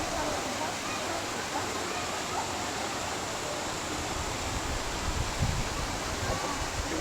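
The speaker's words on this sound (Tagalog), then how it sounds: "Andito na kami sa ilog." Mountain river water rushing steadily, a dense, even roar close by with no pauses, filling the whole scene.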